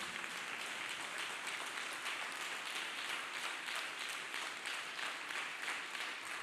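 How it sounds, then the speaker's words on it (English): A church congregation claps hands together in praise of Jesus Christ, a dense, steady wash of many hands applauding continuously with no spoken words. "People of God, let's clap hands for Jesus Christ."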